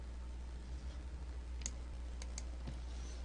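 A computer mouse gives several brief, faint clicks over a steady background hum during image editing work in a CS2 design program.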